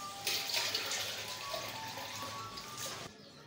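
Water pours from a tap into a jug in a home kitchen, a steady close rushing splash that runs for several seconds before stopping abruptly.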